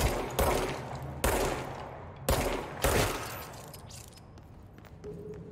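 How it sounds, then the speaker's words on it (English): Gunshots from shooting enemies in the video game Control, roughly four sharp, loud reports spaced about a second apart, each with a decaying echo, then quieter thuds at the end. "What happens if I shoot them all?"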